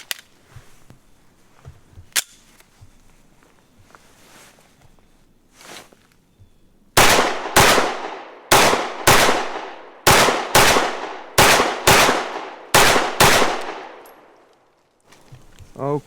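A Walther PDP F series handgun fires five controlled pairs at close range, ten sharp loud cracks grouped in quick doubles with short gaps between pairs, after a few quieter clicks and handling sounds.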